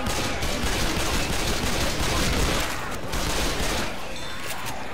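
Mounted turret gun in the Left 4 Dead 2 video game firing in a continuous, dense burst of rapid shots for several seconds, loud and close, with no talk over it.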